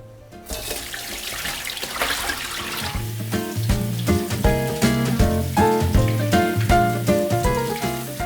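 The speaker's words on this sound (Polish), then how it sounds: "teraz jest czas na to, żeby ją odcedzić, dokładnie przepłukać" Napa cabbage is rinsed in a bowl under a running kitchen tap. The water pours steadily, and close, bright splashing and clattering build up as the leaves are handled. No one speaks.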